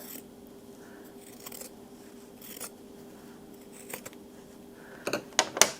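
Scissors trimming quilt fabric pieces, faint intermittent snips and rustles that end in a few sharp close cuts.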